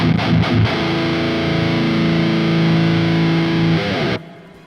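Heavy distorted electric guitar riff in drop A tuning, a loud, thick sustained chord after a few quick chugs, ringing out for several seconds before being cut off abruptly, with no voices.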